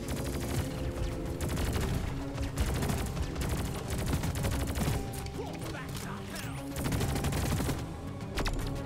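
A turret in the video game Deep Rock Galactic fires dense, rapid bursts of automatic gunfire, loud and continuous across the whole stretch, mixed with clattering impacts.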